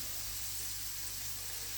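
Onion cooking in a pan of Indian chicken gives a steady, even sizzle and hiss, close and continuous throughout, with no voices over it.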